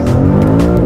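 BMW M5 with four-wheel drive switched to rear-wheel drive, accelerating hard on a race circuit: a brief, loud, close burst of deep engine roar with a rising, strained tone.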